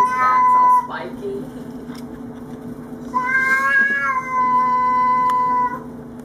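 A territorial domestic cat yowls and growls at an intruder cat, loud drawn-out wavering cries in two long bursts with a low steady growl beneath, close by and without talk.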